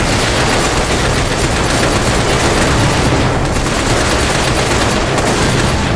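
Sustained gunfire in the video game Binary Domain, a dense continuous barrage of loud rapid shots filling the whole stretch without pause.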